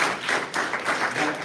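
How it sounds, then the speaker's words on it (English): Applause from an audience at a congressional briefing on gun violence, a short burst of fairly close, steady clapping with slight pulsing and no talk over it. "You can give that a round of applause."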